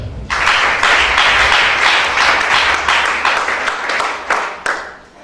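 Church congregation clapping and applauding together, a steady dense wash of many hands with louder bursts near the end, close and sustained before trailing off.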